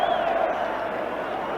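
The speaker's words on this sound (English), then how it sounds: "cheer from the Hearts supporters for that clearance" Hearts supporters at a Hibs v Hearts football match cheer a clearance, a broad crowd roar swelling at the start and then holding steady, sustained crowd noise filling the stadium.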